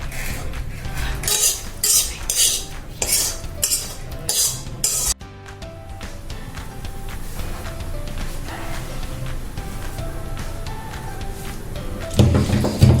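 Green tomato bharit being crushed in a metal pot, Khandeshi style: repeated clinking, scraping strikes of a utensil against the pot, rhythmic in the first seconds and then softer, continuous mashing and clatter close to the microphone.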